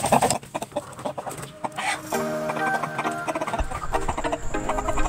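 Rhode Island Red chickens cluck and squawk close by, several birds overlapping in busy, uneven bursts against a noisy backyard farmyard background.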